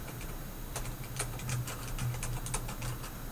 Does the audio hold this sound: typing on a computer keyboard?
yes